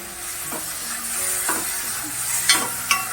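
Finely chopped fenugreek leaves being sautéed into dal with tomatoes, a steady sizzle broken by a few soft stirring scrapes from a spoon in the pan.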